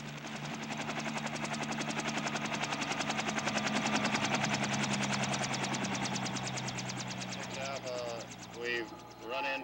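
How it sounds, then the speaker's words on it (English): Helicopters descend on villages during the Vietnam War, a loud, rhythmic rotor thump throbbing steadily, swelling and then easing, with voices and faint shouts near the end. "helicopter units make a surprise descent on suspect villages"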